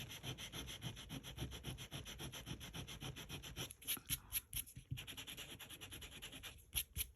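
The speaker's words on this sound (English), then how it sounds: "I'm going to use the eraser on it." An eraser rubs quickly back and forth on paper, a soft, close, rhythmic scrubbing that pauses briefly midway and resumes, faint and without talk.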